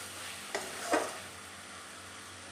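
Ginger-garlic paste fries with ground spices in a pan, giving a faint, low sizzle. Two soft stirring scrapes stand out early, and the pan stays quiet otherwise.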